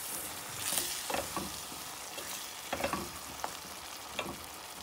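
Curry powder is stirred into a frying curry pot, producing a soft, fairly faint sizzle with occasional scraping stirs coming in small bursts.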